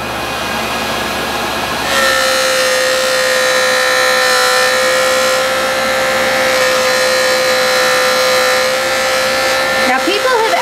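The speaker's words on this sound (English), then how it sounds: "the next thing we're going to do is switch this over to our polishing buff" A JoolTool metal shaper fitted with a felt polishing buff starts up and holds a steady, high motor whine with a bright tonal hum. It runs continuously at close range.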